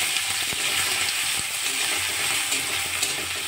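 Chopped onion and garlic paste fry in oil in a pan for a Bengali-style dry prawn dish. A close, steady sizzling hiss continues throughout, with occasional scraping stir clicks and no voices.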